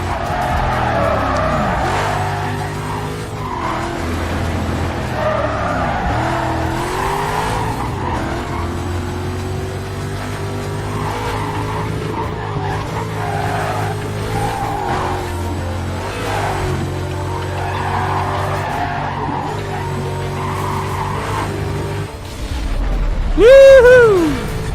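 Race cars in the video game Need For Speed Carbon screech their tires through long sustained skids over roaring engines, loud and continuous, with a sharp squeal flaring near the end.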